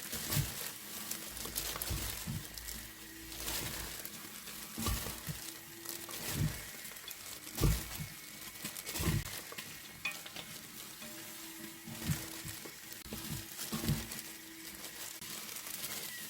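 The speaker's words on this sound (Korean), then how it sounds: "살살살 버무줍니다" Seasoned stonecrop salad is gently tossed by hand in a bowl, giving soft, close, wet rustling and squishing in irregular strokes with no talk over it.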